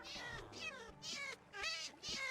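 Several drawn-out cat meows from a Minecraft cat, four rising-and-falling calls in a row with short gaps, fairly close and clear, alone with no talking.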